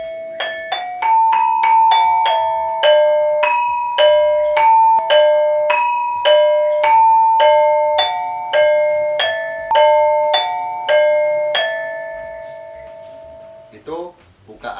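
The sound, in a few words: Cirebon gamelan playing the opening with lagu gonjing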